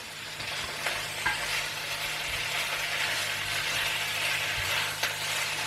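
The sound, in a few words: cod sizzling in olive oil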